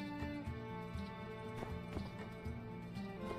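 Horse hooves in the My Time at Sandrock video game clip-clop in a steady rhythmic trot, quiet and close, under a droning musical backdrop.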